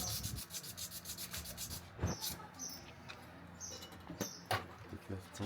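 A handmade object being rubbed and polished by hand in a Fez workshop, producing soft, continuous rough rubbing strokes with a few sharper scrapes, close and fairly quiet.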